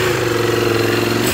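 A Ducati Hypermotard 698 Mono RVE single-cylinder engine runs close by, a loud, steady, throbbing thump that holds with no voices.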